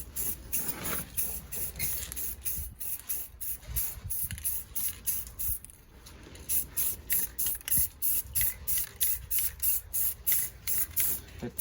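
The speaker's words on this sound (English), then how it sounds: "The same steps apply when it comes to putting base coat." A spray gun lays base coat paint on an IS300 HKS diffuser, firing in quick repeated hissing bursts with short gaps, close and loud, steady at first and then pulsing faster toward the end.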